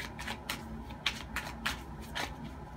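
A deck of tarot cards is riffled and shuffled up close, with a quick run of soft flutters and snaps repeating in short bursts, quiet and with no talking.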